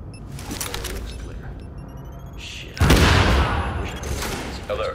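Video game gunfire in Tom Clancy's The Division: a loud burst erupts midway after a stretch of muffled rumbling noise, rolling and booming before trailing off.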